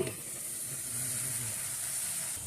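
Fish curry broth with silver carp and brinjal simmering in a covered pan, a steady, faint hiss and bubbling that continues evenly with no talk.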